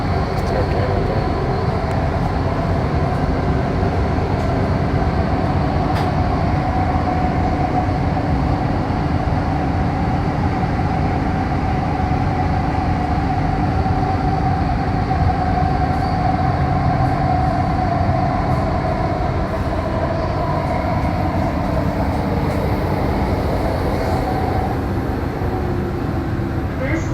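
A Qatar metro train rumbles steadily from inside the carriage, a loud continuous roar with faint mechanical whine throughout.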